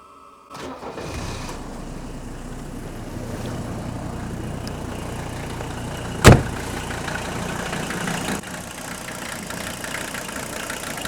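An old diesel engine with weak glow plugs cranks and catches, then settles into a rough, shaky, missing idle with a steady low rumble, broken by one sharp loud knock partway through.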